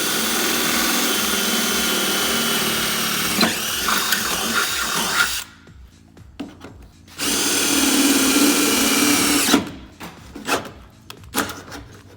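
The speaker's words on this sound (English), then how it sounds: "I'm gonna continue to drill some of these holes" Power drill whirring in long bursts, stopping and starting, with a brief pause of quieter clattering between runs.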